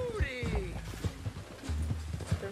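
Rhythmic horse hoof clops in Red Dead Redemption 2 under someone talking over game audio, with a low rumble and scattered thuds throughout.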